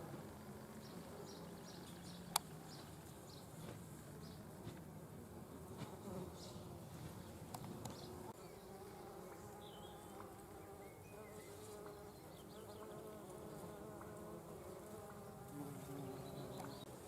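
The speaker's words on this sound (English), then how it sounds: "There's probably about 200 bees on here right now, various sorts." Dozens of bees of various sorts hum in a dense, continuous buzz over a large comfrey patch in a May garden, faint and steady with occasional closer passes and soft distant birdsong.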